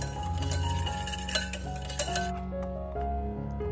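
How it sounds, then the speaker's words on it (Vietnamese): Separated egg yolks get stirred in a bowl for pandan flan, a utensil clinking lightly and repeatedly against the dish at close range, with quiet pauses between strokes. "Lòng đỏ tách ra rồi thì mình khuấy cho tan"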